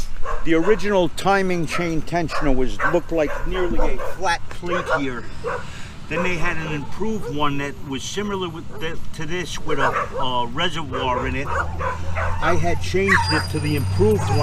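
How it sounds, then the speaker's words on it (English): A dog barks and yips repeatedly in quick, near bursts, sometimes whimpering, over someone talking steadily throughout. "I'm sorry about the dog."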